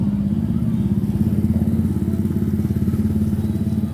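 A Honda CBR motorcycle rides along a street in Lao Cai, Vietnam. Its engine gives a steady, close, low rumble with a fast pulsing throb that lasts the whole stretch, and no one speaks.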